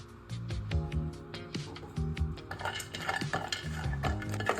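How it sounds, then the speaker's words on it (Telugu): Cashews frying in a pan and stirred with a metal spoon, faint sizzling under a series of rhythmic scrapes and clinks against the pan, close with no talk. "కొన్ని కాజును కూడా ఫ్రై చేసుకోవాలండి."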